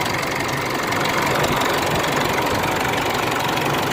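A car engine with a dead battery, now started, runs at a steady, loud, rough idle. The dense mechanical drone continues without a break and no one speaks.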